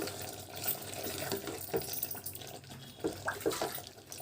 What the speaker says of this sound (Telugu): మళ్ళీ వాటర్ పోసుకున్నాము